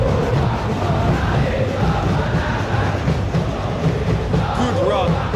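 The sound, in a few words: stadium crowd in virtual football video game match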